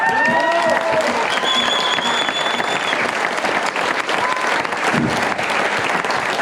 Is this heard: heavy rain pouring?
no